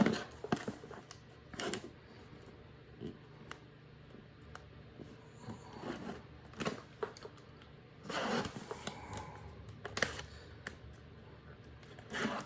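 Quiet crinkling and scattered sharp clicks and scratches of packaging being poked open with a pin up close, irregular bursts separated by near-silence.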